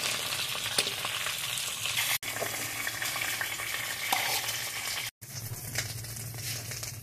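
Pangas fish pieces fry in hot oil for a Bengali home-style curry, a close, constant crackling sizzle with occasional stirring scrapes and two brief cuts of silence.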